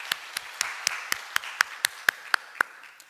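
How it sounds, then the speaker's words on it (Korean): Church congregation clapping in unison during a Sunday service, about a dozen sharp, evenly spaced claps in a steady rhythm, moderately loud against a quiet room. "우리 다시 오실 주님 기다리며 사모하며 영광의 박수 한번 돌려드리겠습니다."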